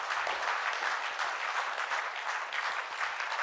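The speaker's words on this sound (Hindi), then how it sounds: "सो एक बार जोरदार तालियां होनी चाहिए टॉप टाइम के लिए।" An audience at a Toptime direct-selling company event claps in dense, continuous applause, loud and steady for the whole stretch with no talk over it.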